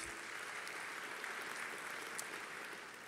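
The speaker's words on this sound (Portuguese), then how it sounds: "Vamos aplaudir e ser gratos a eles." A church congregation in Belém, Brazil applauds, a steady, dense wash of clapping from many hands that fills the whole stretch at an even level, with no talk over it.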